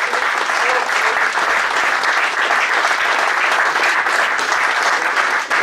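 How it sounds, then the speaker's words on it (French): A roomful of union members at a CGT local's New Year's gathering in Roussillon-Beaurepaire gives a loud, thunderous round of applause for a new comrade, dense continuous clapping that holds steady for several seconds. "On fait un tonnerre d'applaudissements pour ce nouveau camarade"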